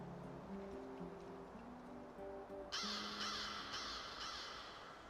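Crows caw repeatedly in the Chernobylite video game, a steady harsh chorus that becomes louder and denser partway through, over faint ambient background sound.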